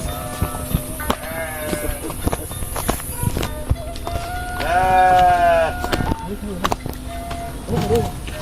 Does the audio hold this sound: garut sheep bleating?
yes